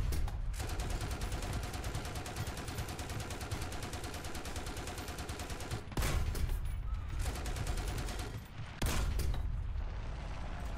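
Dense, continuous gunfire in War Thunder aimed at the player's tank, a heavy sustained fusillade with brief gaps and bursts resuming, loud throughout with little talk.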